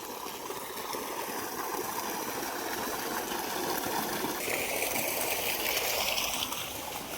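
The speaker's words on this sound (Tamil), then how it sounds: "வாங்க பாருங்கள், தண்ணி எவ்வளோ ஃபோர்ஸாக வருது பாருங்கள்" Water gushing hard from a well pipe on a coconut farm property, a steady, fairly faint rushing hiss that stays even throughout.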